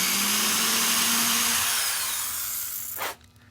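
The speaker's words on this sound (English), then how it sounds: "So you can just take a little drill like this." A small power drill whirs while boring holes in cast two-part epoxy resin ornaments, a steady high whine that fades and cuts off near the end, leaving quiet.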